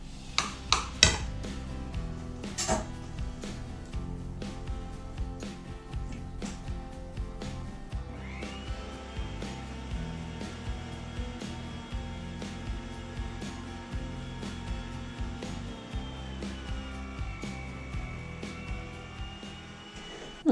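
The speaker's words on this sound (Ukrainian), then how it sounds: "Змелю м'ясо на середню решітку." A meat grinder mincing meat through a medium plate for a filling, with a steady mechanical whir running throughout, overlaid with frequent clinks and clatters of metal and dishes in a kitchen.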